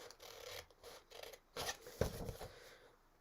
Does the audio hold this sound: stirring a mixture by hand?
no